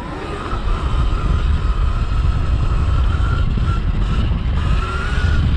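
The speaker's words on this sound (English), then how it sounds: "Boy, the wind is dirty" Steady rushing wind roar from riding a Sur-Ron 72V electric motorbike, loud and continuous with a low rumbling buffet throughout and no voices.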